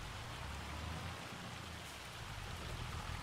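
Hail drumming steadily on a tractor cab during baling in Farming Simulator 25, a dense, even patter of many small impacts at close range with no voices over it.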